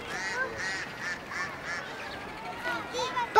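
Ducks quack in a quick rhythmic series of nasal calls, about half a dozen in a row, then a few more after a short pause, heard at moderate distance over background noise.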